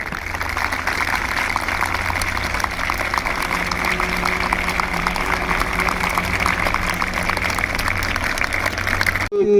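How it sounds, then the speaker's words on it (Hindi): Steady, dense clapping from a crowd of students at a farewell and career counselling event, sustained and loud throughout before stopping abruptly at the end. "तो आप सबकी जोरदार तालियों की बरसात हो जाएगी।"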